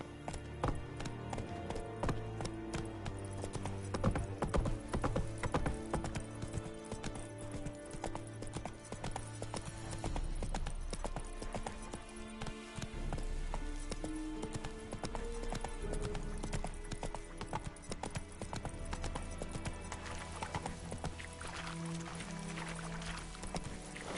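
Roach, Geralt's horse in The Witcher 3, gallops with a steady, continuous clip-clop of hooves. The hoofbeats sit beneath a layered musical score and game ambience throughout.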